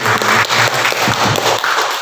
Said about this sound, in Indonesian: Sebelumnya kita beri tepuk tangan dulu.